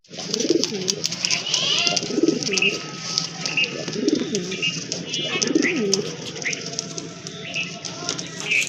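A pair of white domestic pigeons coos in a repeated, rhythmic pattern close by, with soft chirps and rustling around the low, throaty calls.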